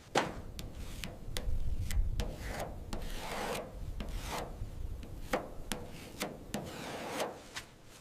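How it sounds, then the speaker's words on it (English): Repeated rasping strokes of hand sanding body filler on a curved metal panel of a 1958 BMW Isetta, steady back-and-forth rhythm, close and fairly loud. "endlessly sanding by hand just to feel that one perfect, smooth curve"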